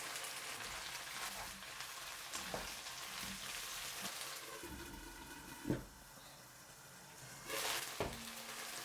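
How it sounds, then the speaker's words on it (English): Beef and Chinese broccoli stir-frying with seasoning sauce in a pan, a faint, soft sizzle with a few stirring knocks and scrapes spaced through the clip. "Occasionally stir for 2 minutes."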